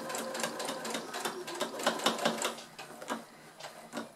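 Sewing machine stitching a seam on an old pair of jeans being made into an apron, fast rhythmic needle clatter in short bursts, close and fairly quiet, with no talking.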